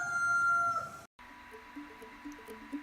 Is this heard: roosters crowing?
yes